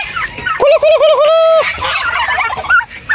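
A hybrid turkey gobbles loudly and close, a rapid warbling rattle lasting about a second, followed by softer clucks and calls from nearby fowl.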